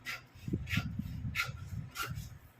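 Scissors cutting a paper sewing pattern for gathered pants, leaving a half-inch seam allowance, give a few close, soft rasping snips in an uneven rhythm at low volume, with no talk.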